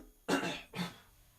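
Two close coughs from one person indoors, a sharp loud first burst followed by a softer second, then quiet.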